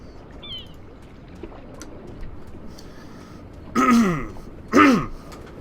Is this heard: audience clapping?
no